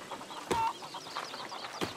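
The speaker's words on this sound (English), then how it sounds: "Catch the chicken, stop the chicken, catch the chicken, stop the chicken." Chickens clucking in A Plague Tale Requiem, a run of small, fairly soft clucks and chirps with a couple of sharper squawks, heard alone without talk.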